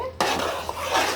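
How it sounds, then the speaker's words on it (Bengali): A metal spoon scrapes and clatters against a pan as beef tripe is stirred while frying, one sharp contact followed by a short run of scraping and faint sizzling. "আমি এখন এটাকে ভেজে ভেজে"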